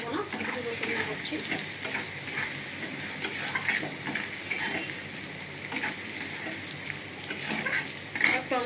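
Potatoes and onion frying with garlic paste sizzle loudly in a pan while a spoon stirs them in repeated scraping strokes. Occasional clinks of metal on the pan come through the steady hiss.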